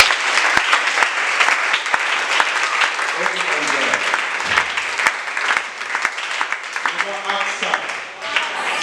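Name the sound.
congregation applauding and acclaiming the Lord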